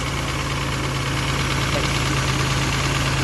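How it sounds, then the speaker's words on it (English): A car engine idles steadily after a head gasket repair, a slight lifter tap ticking beneath a smooth, continuous mid-pitched hum, heard close up without talk. "It does have a tap. A little bit of a lifter tap"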